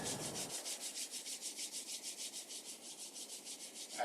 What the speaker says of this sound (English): Now, once again, just rubbing your hands together